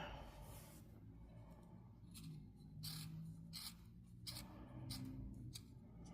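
Slightly dull scissors snip through palazzo pants fabric in a series of crisp, close cuts, the quiet crunching repeated at an uneven pace with no talking.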